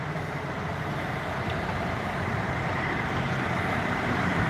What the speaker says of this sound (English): Or maybe that truck has beer in it.